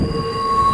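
A freight train rolls past on the Tehachapi line in California, a steady close rumble with a sustained metallic ring held over it for a brief moment.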